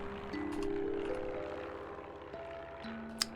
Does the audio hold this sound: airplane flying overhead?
yes